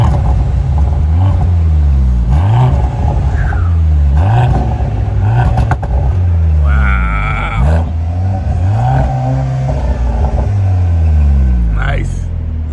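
A Mercedes-Benz C43 AMG four-cylinder revving hard in Sport Plus mode, loud rising and falling revs with crackles and pops, heard close under continuous talking from people in the car.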